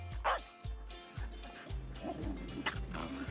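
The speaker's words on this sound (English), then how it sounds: "here people bring their dogs for them to socialize with other dogs" Several dogs bark and yip at a dog park, some whimpering, at moderate distance in repeated short bursts, with quiet talk in the background.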